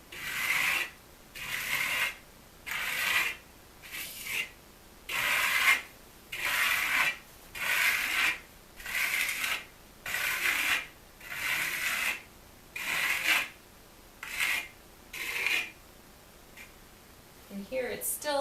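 A steel trowel rubs in light arcing strokes across soft metallic plaster, giving a steady series of about fifteen rhythmic rasping scrapes, each roughly half a second long with short gaps, close and fairly loud, with no talk.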